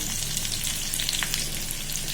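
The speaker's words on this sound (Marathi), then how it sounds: "तापलं आहे तेल कढीपत्ता घातला" Curry leaves and green and red chillies sizzling in hot oil with mustard seeds for a tempering, a steady soft frying hiss with scattered small pops and crackles close by.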